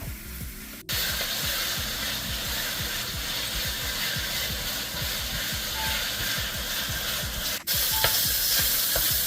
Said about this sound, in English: Next, I'm going to add my Italian sausage and my hamburger meat. Let that brown.